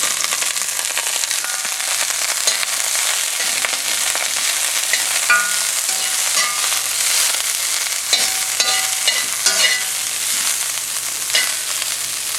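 Broccoli stir-fries in oil in a very hot wok with a loud, dense, crackling sizzle that holds steady throughout, punctuated by frequent sharp pops and spatula scrapes.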